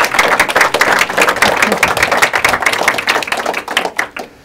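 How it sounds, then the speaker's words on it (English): An audience gathered at an evening benefit event for families with HIV and AIDS claps steadily, a dense patter of many hands near and loud, tapering slightly at the end without talk. "How about a round of applause, folks?"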